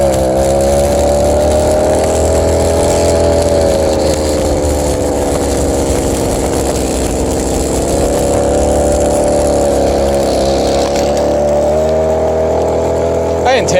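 A 29cc Go-Ped motor scooter engine runs steadily and loud throughout, its buzzing drone dipping and rising slightly as the throttle changes, with no talking over it.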